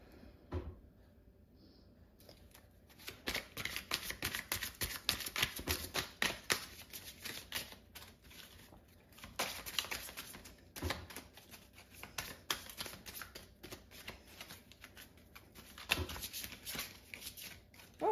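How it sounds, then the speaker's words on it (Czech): Tarot cards shuffled in a deck by hand, close up: a long run of rapid papery riffles and taps, rising and falling in bursts, with faint background noise and no talking. "jak míchám tyto karty v balíčku číslo 2"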